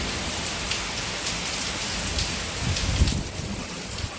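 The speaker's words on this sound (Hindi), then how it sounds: "लेकिन अब बहुत अच्छी बारिश हो रही है" Heavy rain pours down steadily on a residential colony, a dense continuous wash of drops close by with a few louder splashes and no voices.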